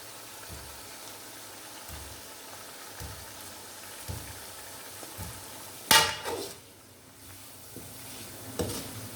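Masala and fried koftas sizzle steadily in a pan while a spoon stirs them, with soft scraping taps throughout and one sharper clatter partway through, close and without talk.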